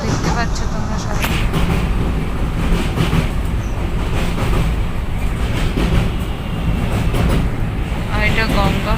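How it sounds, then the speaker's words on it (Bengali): A passenger train crosses the Bally bridge over the Ganges near Dakshineswar, heard from on board as a loud, steady rumble with rhythmic clatter throughout. "বালি ব্রিজের উপর দিয়ে যাচ্ছে এখন ট্রেনটা"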